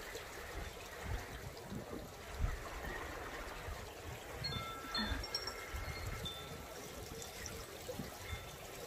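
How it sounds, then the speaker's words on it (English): Floodwater runs like a river around an RV in Canada, giving a steady low rushing wash with faint trickles and small splashes throughout, moderately distant and without voices. "the water's finally subsiding a little, but as you can see, I still live on a river"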